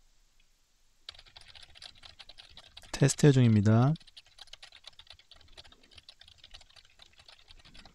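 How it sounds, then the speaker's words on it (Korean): Rapid clicking of keys on a computer keyboard throughout, picked up by a Razer BlackShark V2 Pro 2023 headset microphone, with a brief burst of spoken words in the middle. "먼저 키보드 소리입니다"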